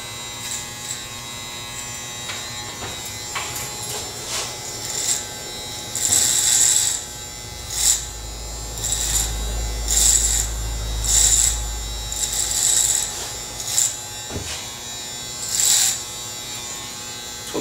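Electric hair clippers buzz close by while cutting a flattop haircut, the motor whirring steadily with louder bursts as the blades bite into hair.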